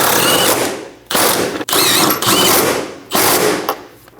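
Bolts being snugged down on a Dodge Durango 5.7L V8 fuel tank assembly: loud, close bursts of rapid mechanical ratcheting, each lasting about a second, separated by brief pauses, with no voices.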